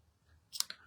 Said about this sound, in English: Should have used my ribbon scissors.